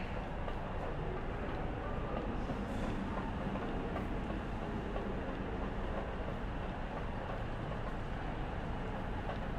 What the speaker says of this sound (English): Heads up, train's about to pull in at platform 7.